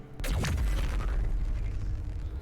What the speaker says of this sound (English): am I going to activate Giant Man Cannon?